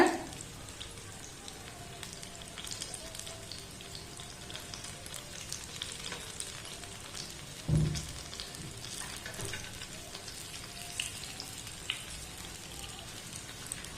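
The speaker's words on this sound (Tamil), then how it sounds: "நம்ம ஒரு சைடு வெந்த உடனே அடுத்த பக்கம் பெரட்டி போட்டுடலாம் இந்த மாதிரி எல்லாத்தையும் பரட்டி போட்டுக்கோங்க" Banana pieces fry in a pan with steady oil crackle and sizzle, a soft clatter as they are turned partway through, close and even.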